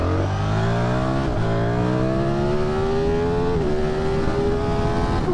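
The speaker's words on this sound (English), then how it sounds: "that was just a mere tickle of the throttle" A 2025 Ducati Streetfighter V4S motorcycle engine under light throttle in road mode, rising steadily in pitch through the gears with a brief shift, loud and close, with a continuous smooth drone.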